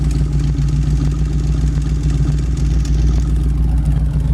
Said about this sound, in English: let you hear the exhaust on it